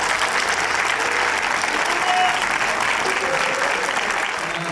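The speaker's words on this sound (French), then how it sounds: "vous êtes les premiers spectateurs, donc vous pouvez déjà vous applaudir" An audience at a film premiere screening in a Marseille cinema applauds, a loud, continuous, dense crowd clapping that holds steady without pause.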